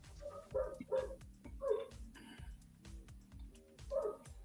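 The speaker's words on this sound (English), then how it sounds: "Your dog's starting to sound like a seal, Chris." A dog barks and yips in a quick irregular series of short, high, nasal calls, close and fairly quiet, with brief whimpering tones between them.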